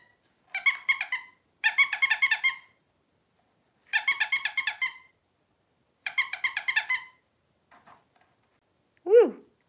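Squeaking toy bats tucked in a jack-o'-lantern give four quick bursts of rapid repeated squeaks, close and clear, followed by faint chirps and a short rising squawk near the end.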